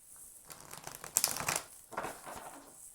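Illust Tarot cards being shuffled, a crisp papery riffling and crinkling that builds to a louder flurry midway, then settles into softer rustles, close and alone.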